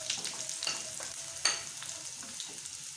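Garlic cloves, whole green chillies and cumin seeds frying in hot ghee give a steady close sizzle, broken by scraping stirs and one sharper spatter, with no talking.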